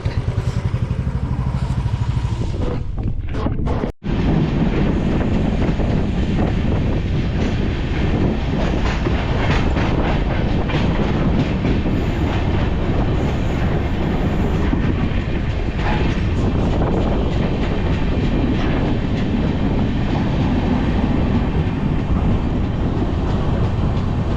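A train rumbles through Varkala railway station in Kerala, a loud, steady roar of wheels and carriages with clattering texture that runs almost the whole time, broken only by a brief dropout near the start.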